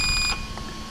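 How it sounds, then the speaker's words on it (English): A long, shrill electronic beep from the speed controller (BLX ESC) of an Arrma Granite 4x4 3S RC truck, one steady tone lasting about a third of a second, then quiet background. "When it does that long, shrill beep,"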